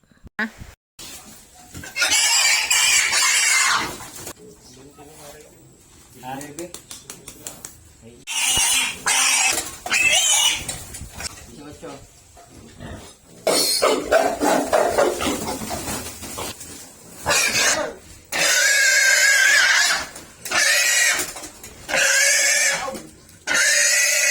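Native pigs, five head brought for weighing and sale, squeal and grunt in loud, harsh bursts that repeat throughout, with short quieter gaps and possible poultry sounds in between.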